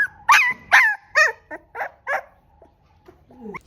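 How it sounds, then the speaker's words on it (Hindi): A small dog or puppy gives a quick run of about six close, loud yips and barks, trailing into a few faint whimpers indoors. "ये तो भौंक भी रहा है"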